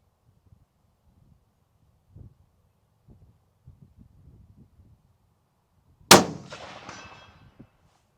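A single sharp crack from a Ruger Predator 6.5 rifle fired at a target 200 yards out rings loud and clear, then fades. It follows several seconds of quiet outdoor wind buffeting.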